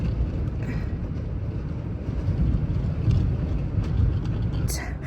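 Strong wind gusting across an outdoor microphone in Kansas, a steady loud low rumble with buffeting throughout and brief rustling near the end.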